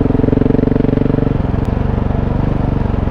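KTM 690 Enduro single-cylinder motorcycle engine on a test ride, a loud, close, steady thumping drone with a quick shift in pitch midway as the rider changes gear or rolls off the throttle.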